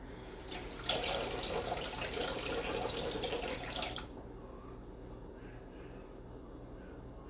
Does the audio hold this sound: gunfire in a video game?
no